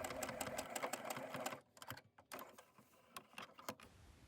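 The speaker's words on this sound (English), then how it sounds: "take it to the machine to stitch it in place. I always do a couple of back stitches." A sewing machine stitches a fabric hanging tab in place, a rapid run of needle clatter that stops, then short bursts of back stitching, close and fairly quiet.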